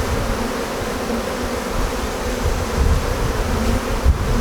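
Honeybees buzzing around an open hive during a midsummer inspection, a dense, continuous drone close by with a few louder passes as individual bees fly near.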